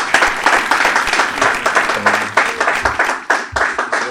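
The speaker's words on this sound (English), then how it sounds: "I want a big round of applause for this man." A live stand-up comedy audience in Nigeria applauds comedian Ajebaba as he is introduced, with loud, dense clapping that holds steady for several seconds before thinning slightly at the end.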